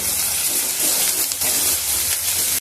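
Ginger garlic paste frying in hot oil with onions in a pan for a spinach and potato curry: a steady, loud sizzling hiss that continues throughout, stopping abruptly at the very end.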